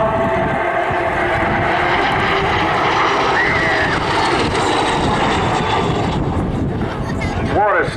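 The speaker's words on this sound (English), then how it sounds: "What you're about to see is a Mikoyan-Gurevich MiG-15." Mikoyan-Gurevich MiG-15 jet flying at the Southport Airshow, a steady loud roar of jet engine noise sustained throughout with a rising whine near the end, and voices talking over it.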